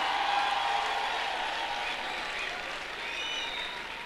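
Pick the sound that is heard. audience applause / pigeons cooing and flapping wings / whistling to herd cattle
audience applause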